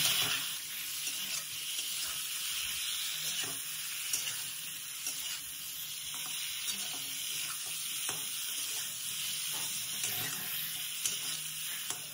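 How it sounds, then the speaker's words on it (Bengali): Potatoes with spices for Bengali aloo dum fry in a wok with a constant close sizzle, broken by repeated light scraping and clatter as they are stirred at a steady rhythm, with no voices. "সুন্দর করে কষতে হবে আলুর দমটা"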